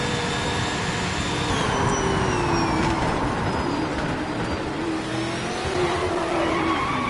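A V8 Supercar in Project Motor Racing, a Ford versus Holden race, screams at high revs with shifting engine pitch and a rough rumble as it strikes a curb, loud and continuous throughout.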